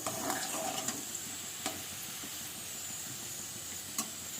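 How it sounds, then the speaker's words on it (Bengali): Potatoes stirred and frying in a pan, a soft continuous sizzle with a few sharp scrapes and clicks of the spatula near the start and again near the end, quiet and close, no talking. "দেখো আমি একটু আরেকবার একটু মেরে চেড়ে দিচ্ছি হালকা একটু ভাজা ভাজা হলে আলুটাকে আমি তুলে নেবো"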